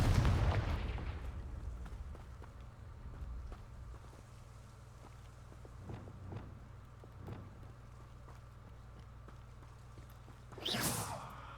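In the video game Hogwarts Legacy, a Confringo fire blast spell goes off, with a booming explosive burst at the start and another whooshing blast near the end, separated by faint thuds and ambient game noise.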